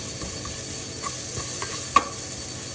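Ginger, garlic, spring onion and capsicum sautéing in a pan make a steady, moderate sizzle. A few soft stirring clicks fall over it, with one sharper tap near the end.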